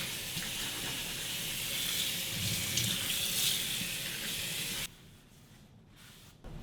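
Abalone washed under a running kitchen tap, a steady loud splash and hiss of water into the sink that stops abruptly near the end, leaving quiet room tone.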